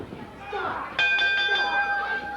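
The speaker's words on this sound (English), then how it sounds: "Good idea, Dave, to ring the bell and try to get this thing settled" A wrestling ring bell clangs in rapid repeated strikes with a ringing metallic tone at a USWA TV wrestling event, loud and close over crowd noise and a commentator's voice.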